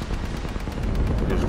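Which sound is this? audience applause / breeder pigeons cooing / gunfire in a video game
gunfire in a video game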